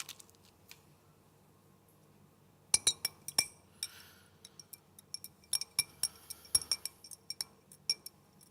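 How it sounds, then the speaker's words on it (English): A spoon stirs a mixture in a glass of water, giving bright, close clinks against the glass that come irregularly, then pick up into a quicker run of taps after a quiet start. "Mix it up in that glass of water."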